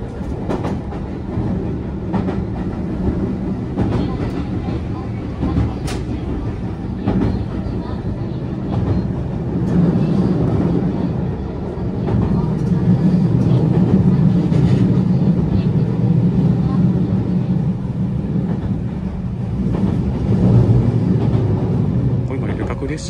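A JR 221 series passenger train rolls along steadily with a low rumbling drone and faint clicking of wheels on rail joints, heard from inside the carriage, just departed Shin-Osaka.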